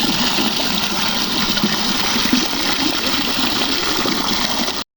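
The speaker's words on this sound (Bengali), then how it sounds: "পুকুরে পানি সেচ করে দিচ্ছে, মানে অন্য পুকুরে পানিটা দিচ্ছে মেশিনের দ্বারা" A machine pumps fish-pond water through a pipe into another pond in a village, giving a loud, steady gushing roar of rushing water that runs unbroken with no voices until it cuts off abruptly.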